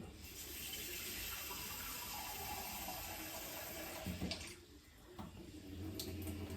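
Water is poured into a cooking pot steadily for several seconds, a continuous splashing flow that briefly pauses near the end before resuming.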